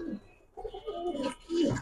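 Pigeons coo softly at a pigeon farm that keeps high flyers, racers and fancy breeds. The low, murmuring calls swell toward the end, fairly close and fairly faint, with no talking.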